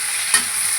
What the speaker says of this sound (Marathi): आपण बघा आता कांदा टमाटर घालूया याच्यामध्ये आणि याला पण छानसं शिजवून देऊया.